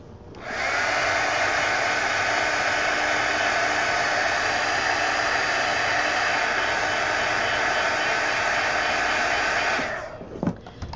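A hair dryer blows steadily on a coloring page, a loud continuous whoosh lasting about nine seconds before cutting off, with a faint rattle after it stops.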